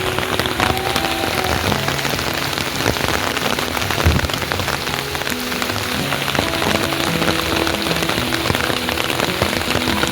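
Monsoon rain pours steadily onto a full river beside a forest, a loud, dense, continuous patter of drops with no pauses or voices.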